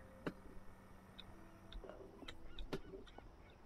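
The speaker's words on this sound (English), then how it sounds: "Okay, I hear seagulls now." Seagulls call faintly in the ambient soundscape of the video game We Happy Few, a few short, sparse cries scattered over a quiet, low background.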